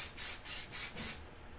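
Layering spray hissed from an aerosol can onto a model in four quick, even bursts, close and fairly soft, then silence.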